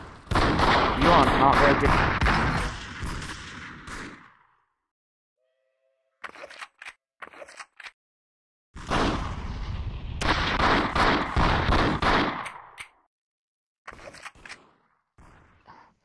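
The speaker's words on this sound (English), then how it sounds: "Bro, you can shoot me all day if you'd like." In the game VRChat, sharp gunshot cracks sound in short scattered bursts, some single and some in quick clusters, between stretches of someone talking loudly.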